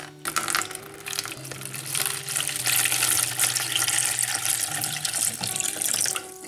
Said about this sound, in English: cover them for 24 hours in lukewarm water